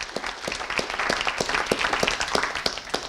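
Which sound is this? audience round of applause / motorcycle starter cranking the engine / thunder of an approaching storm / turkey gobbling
audience round of applause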